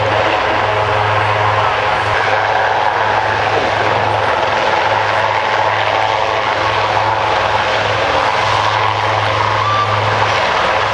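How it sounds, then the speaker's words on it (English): Indian Air Force helicopters taking off at an air show, a loud steady rotor and engine drone that fills the scene continuously. "helicopters that are getting airborne, and they're from the Indian Air Force"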